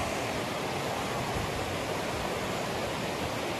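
Fast-flowing river water at Neora Dam rushes in a continuous broad roar, loud and even throughout with no voices.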